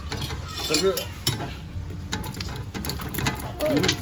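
Meat being dropped into a pan and stirred, sizzling steadily up close, with scraping and clatter throughout and a voice speaking over it.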